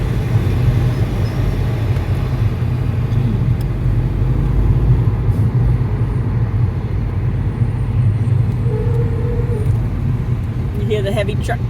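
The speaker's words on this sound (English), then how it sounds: "Hear the heavy truck brakes." Heavy truck brakes squealing in traffic near a dump truck, short thin squeaks rising over a constant low engine and road rumble, with a voice talking.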